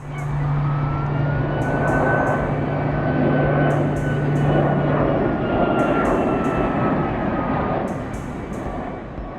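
PD-14 turbofan jet engine running, a steady loud broadband roar with a sustained low drone and faint whining tones, continuous and close throughout with no voices.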